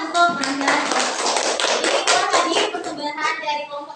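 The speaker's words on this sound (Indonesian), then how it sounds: "Oke, tepuk tangan" Children clapping together in a classroom, a burst of quick, rhythmic hand claps mixed with young voices chattering and calling out, close and lively throughout.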